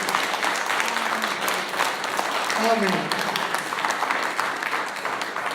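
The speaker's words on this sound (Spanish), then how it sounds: "Dale las palmas al Rey," A church congregation claps and cheers for the King, loud sustained applause from a crowd with a voice calling out briefly over the din.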